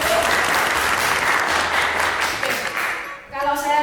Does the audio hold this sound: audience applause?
yes